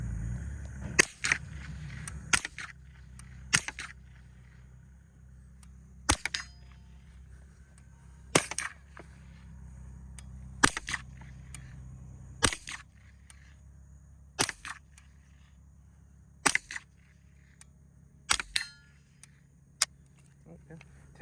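A Remington Model 241 Speedmaster .22 LR semi-automatic rifle fires about a dozen sharp shots, spaced irregularly one to two seconds apart, at an outdoor range. The shots sound fairly close and are loud against quiet background hum.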